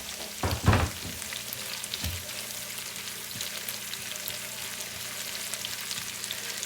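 Onion, garlic and whole cumin fry in hot oil for a tempering, a steady close sizzle that crackles evenly throughout, with a few clunks of a utensil near the start.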